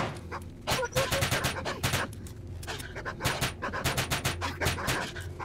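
Combat in the video game STALKER as mutants attack: growling, snarling creature noises mixed with bursts of close gunfire run continuously and loudly throughout.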